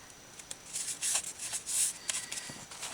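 Paper gift tags being trimmed along their sides with scissors for a Christmas tag embellishment book, giving several short, close snipping and rustling bursts with quiet gaps between them.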